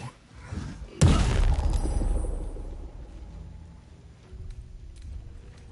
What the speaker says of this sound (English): I think that I will just shoot you